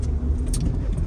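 A minivan engine is gunned on the road, a steady close rumble of motor and road noise with a brief higher burst midway and no talk.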